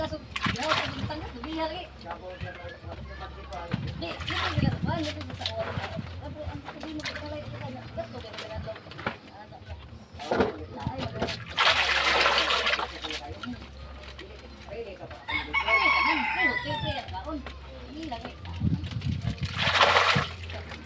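Water splashes as pet chickens are bathed, coming in bursts and washes between stretches of close talking, with birds cooing and clucking in the background.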